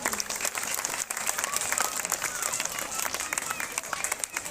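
Sustained audience applause and clapping from a crowd at a March 8 women's day gathering, dense and steady throughout with a few voices mixed in.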